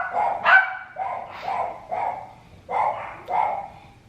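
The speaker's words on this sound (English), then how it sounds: "We have 4 dogs and they just bark, bark, bark, bark, bark." Several household dogs bark in short, separate bursts, about seven over a few seconds. The barks are moderately near and come with uneven gaps, with no talking.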